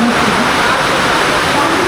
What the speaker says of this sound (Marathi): पावसाचा जोर पुन्हा वाढला आहे